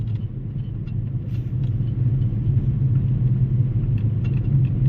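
Steady low car engine rumble under gentle throttle during a driving lesson, a continuous mid-level drone with no talk over it.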